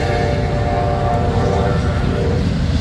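An eastbound Union Pacific double-stack freight train rumbles past close by, a continuous heavy roar of wheels and rail noise with no breaks.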